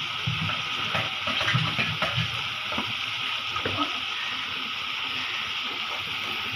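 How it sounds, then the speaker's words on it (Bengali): Water poured into a cooking pan over fried ginger, garlic, onion and fish, producing a steady hissing gush that holds evenly throughout. "এই তো পানি দিয়ে দিলাম।"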